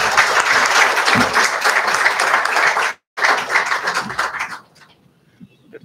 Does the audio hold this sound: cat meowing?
no